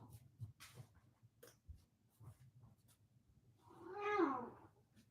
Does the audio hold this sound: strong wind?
no